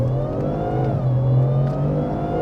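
A supercharged Ford F150 with an MBRP exhaust accelerates around 2,000 RPM, a steady, close, deep engine drone with a low exhaust rumble that rises slightly in pitch, and no talk.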